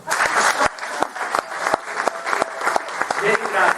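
Italian live evening show audience breaking into lively applause, dense claps with scattered sharp hand hits, loud and close, with a few voices chattering underneath.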